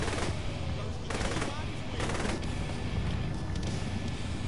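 Sustained gunfire in Saints Row The Third Remastered, dense bursts of automatic shots and booms layered throughout with continuous loud combat noise and a voice talking underneath.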